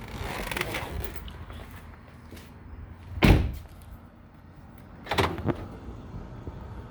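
Door of a BMW car thudding as someone gets out while the engine keeps running, two solid slam-like bumps a couple of seconds apart over a low steady rumble.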